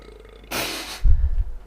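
A game character in a Ratchet & Clank cutscene lets out a deep, low rumbling burp about a second long, following a brief burst of louder cutscene sound.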